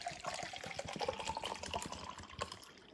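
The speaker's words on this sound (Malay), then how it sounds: "Tambah lagi air." Water poured from a container to top up a drink, a steady splashing trickle with small bursts that runs close by and moderately loud for three seconds, with no talking.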